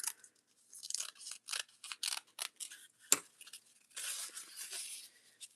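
Scissors trim the edge of a sewing journal in a series of short, crisp snips and paper rustles, close and fairly quiet, with irregular gaps and one sharper click midway.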